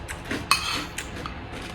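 A spoon clinks against a bowl of chocolate cereal with chocolate milk: a sharp clink near the middle, a second lighter tap about half a second later, over a soft background hiss.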